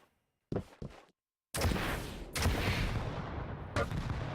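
Rocket launcher shots in Quake Champions during a 1on1 qualifier match: two short sharp blasts, a brief silence, then a long loud booming explosion with a second burst near the end, no talk.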